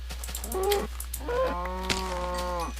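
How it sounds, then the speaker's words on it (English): Cow mooing in the Minecraft video game: two drawn-out tonal moos, the second longer and fuller, over a steady low hum, no talk. "Stupid cow. I want your beef."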